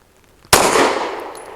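A single sharp 9mm gunshot cracks from the short 3 1/4 inch barrel of a BUL Armory Ultralight pistol, loud and close after a moment of near silence, followed by a ringing decay.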